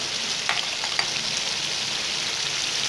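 Beef liver karahi frying in a wok with yogurt and dried fenugreek: a steady, close hiss of sizzling oil broken by a couple of faint stirring clicks, with no voices.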